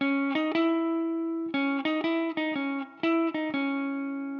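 An electric guitar with a distorted, effected tone plays the short repeated opening line of a song, notes ringing clearly with no talking.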